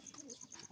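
Pigeons cooing softly in a short burst of repeated low, throaty coos, close but faint.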